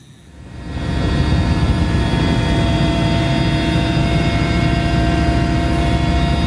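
Loud steady aircraft engine roar, the kind used for wildfire waterbombing and weather-modification flights, rising over the first second and then holding constant and near, with no voices.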